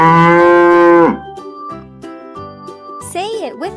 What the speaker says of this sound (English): And what sound does a cow make?